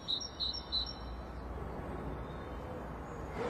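Birds calling around quarry cliff faces in Wales, a few short, high chirps near the start over a low, steady outdoor rumble, then fading out.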